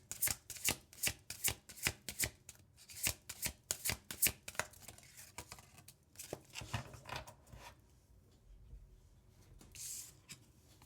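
A deck of oracle cards being shuffled by hand, a fast run of crisp riffling flicks and soft slaps close up, easing into quieter shuffling toward the end with no talking.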